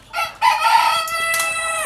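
A rooster crows once, loud and close, a strained rising call that holds and then trails off, with no other sounds around it.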